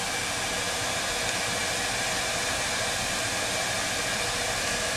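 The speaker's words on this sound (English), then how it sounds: "with my heat gun I will heat it up" A heat gun blows on heat shrink tubing over a soldered Deans connector joint, making a steady, loud, continuous rushing hum with no pauses and no voices.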